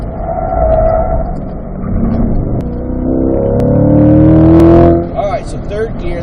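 A Chevrolet C8 Corvette powers out of a corner on a race track at a performance driving school, engine note climbing through the gears, loud and close from inside the car, with a driver talking over it.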